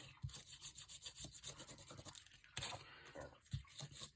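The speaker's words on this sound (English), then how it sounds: "Just going to rub a bit of the glossy off." A sanding block rubbing the glossy surface off a playing card for a journal, soft repeated scratchy strokes, close and quiet, in an irregular back-and-forth rhythm.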